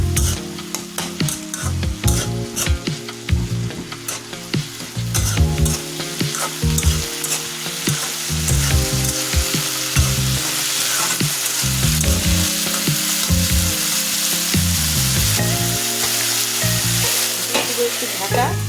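Runner-bean stir-fry with turmeric frying in a pan: a loud, continuous close sizzle with frequent scraping stir strokes of a spatula throughout, no voices.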